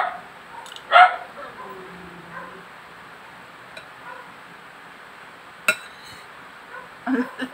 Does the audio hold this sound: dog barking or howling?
yes